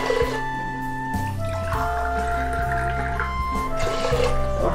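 Water being poured into a pot for cooking egg rice, heard as close liquid splashing and dripping, with steady tonal background music underneath.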